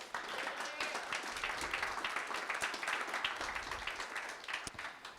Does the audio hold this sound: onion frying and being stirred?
no